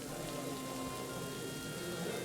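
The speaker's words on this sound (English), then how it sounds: "we got some rain" Steady rain in the Kingdom Come: Deliverance 2 video game hisses on evenly as a dense, continuous patter, fairly soft, with no voices over it.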